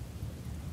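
Thunderstorm ambience from One Piece Pirate Warriors 3 on PS4 Pro: a brief, steady low rumble of thunder with a soft rain hiss over it, fairly quiet and continuous, with no voices.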